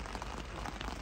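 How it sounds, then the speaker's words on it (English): Rain falls at night on a fishing spot at Drayton during a winter carp competition. It makes a faint, soft, continuous patter on the surroundings for about a second, with no one speaking. "Well, that's just rain, to be honest."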